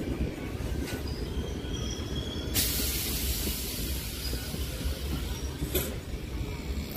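A train running on the line near Sealdah station, a steady rumbling clatter of wheels and carriages with brief sharp hissing bursts and faint squeals, loud and close throughout with no talking.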